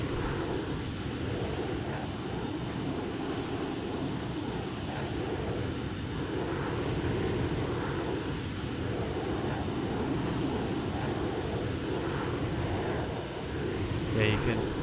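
Jet engine of a Dassault/Dornier Alpha Jet in the X-Plane 11 flight simulator, a steady whining roar that holds at an even level throughout, with a thin high tone running above it.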